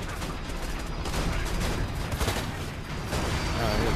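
Sniper rifle fire in the video game Borderlands 2, dense continuous gunfire with overlapping shots and booms during a loud, chaotic firefight.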